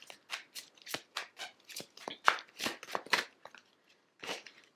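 A deck of tarot cards is shuffled right beside the microphone, giving a run of quick riffling, flapping bursts and soft slaps in an irregular rhythm, loud and close with no talking.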